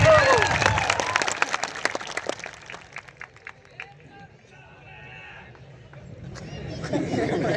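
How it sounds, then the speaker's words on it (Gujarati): At a village welcome ceremony, a crowd applauds as a guest is garlanded with flowers. Brisk clapping fills the first few seconds, then thins into scattered claps and crowd chatter. "સાહેબ માટે જોરદાર તાળીઓના ગણગણાટ."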